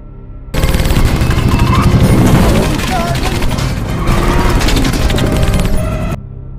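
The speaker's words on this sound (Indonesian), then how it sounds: "Di bawah gempuran tembakan dari helikopter tersebut" Gunfire from a helicopter in an action film pounds on continuously, loud rapid bursts layered with engine roar and booms, then cuts off abruptly near the end.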